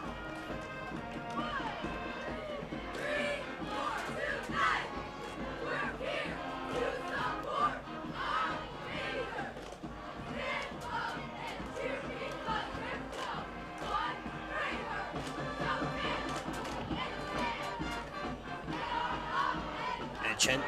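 Pennsbury cheerleaders shout rhythmic chants at a high school football game, their voices mixed with a busy stadium crowd and scattered clapping, a continuous moderately distant roar.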